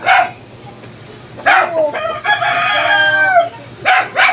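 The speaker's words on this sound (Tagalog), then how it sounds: "May mga alaga silang manok dito." A rooster crows loudly and close by in a backyard flock of chickens, its long call ringing out alone between short bursts of clucking and other fowl noises.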